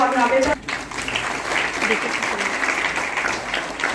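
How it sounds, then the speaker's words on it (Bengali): Applause from an audience at a police commissionerate road safety week closing ceremony, a steady broadband patter of many hands clapping close by over about four seconds with a brief dip near the start. "একটু করতালির জন্য"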